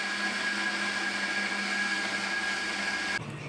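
A kitchen mixer grinds mango into a paste with a loud, steady whirring drone that holds unchanged for about three seconds and then cuts off abruptly.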